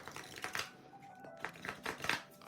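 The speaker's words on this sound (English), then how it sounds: "I'm gonna be working with this to really get used to the shuffle here" Oracle cards shuffled close by, a soft papery riffling and sliding in several short bursts, quiet and up close.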